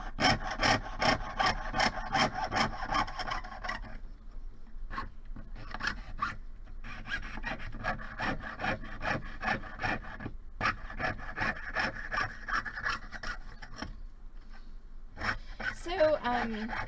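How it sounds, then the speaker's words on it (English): A jeweler's saw cuts through a metal pendant blank in quick, rhythmic rasping strokes, close and loud, with a short pause partway before the sawing resumes. "So I'm just going to keep sawing until I've got this whole thing sawn out."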